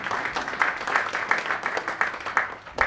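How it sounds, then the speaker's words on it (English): An audience claps at a university public-affairs lecture, a steady patter of many hands with scattered sharper claps, fairly close and lasting about three seconds with no talking over it. "You can clap."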